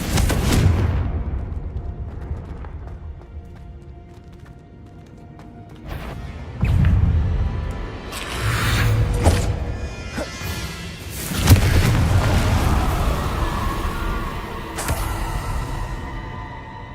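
Confringo fire spells in Hogwarts Legacy burst in a series of heavy booming blasts with crashing debris and whooshes, loud and close, separated by quieter stretches.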